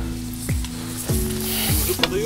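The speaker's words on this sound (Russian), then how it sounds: "Грибы закрываем. Они жарятся." Black chanterelle mushrooms fry with apples in a pan, a steady close sizzle broken by a few soft knocks of a utensil or lid.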